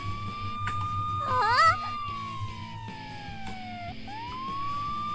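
Police car siren inside a video game, a steady wailing tone that sweeps slowly down and rises again, heard over looping background music with a brief warbling burst partway through.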